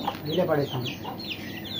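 Chickens cluck close by in a household yard, with busy overlapping calls running steadily throughout the short moment.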